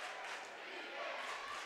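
Crowd of fans at a girls' 6A high school basketball semifinal in Arkansas, a steady, dense wash of cheering and clapping filling the gym, moderately distant and continuous.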